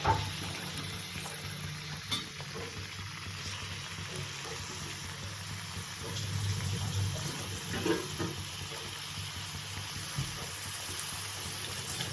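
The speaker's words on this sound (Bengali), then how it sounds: "বেরেস্তা ভাজার জন্য আমি সাদা তেল দিয়ে দিলাম।" Sliced onions fry in white oil for beresta for a prawn biryani, a soft, steady low sizzle with faint occasional stirring, heard from close by.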